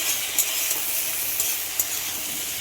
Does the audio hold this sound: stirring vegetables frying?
yes